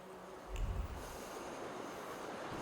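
A train rumbles past with a low heavy thump of wheels and a brief faint whistle-like squeal, a fairly quiet steady rail sound that lingers for a couple of seconds.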